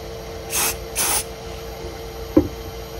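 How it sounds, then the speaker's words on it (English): Two short hissing bursts from an aerosol spray can, about half a second apart, followed by quiet and a small click. "Did you tell them about this spray?"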